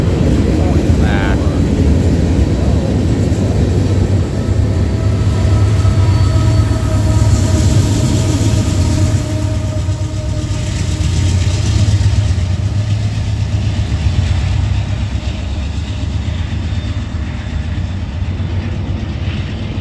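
Norfolk Southern freight train 38G led by NS 3615 rolling through Tarentum, Pennsylvania: a loud, continuous low rumble and rail roar from close by, with faint tonal squeals above, sustained throughout.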